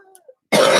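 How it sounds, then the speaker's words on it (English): A single deep, harsh cough bursts out after a brief quiet moment, loud and close. "I got this deep, like, cough."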